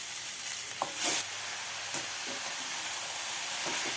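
Chopped onion, green chili and garlic sauté in a hot pan with a steady bright sizzle, broken by a couple of brief stirring scrapes and a louder hiss, close up with no talking.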